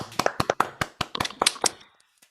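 An audience gives a short burst of loose, close clapping, about a dozen sharp claps in quick succession that thin out and stop before the end.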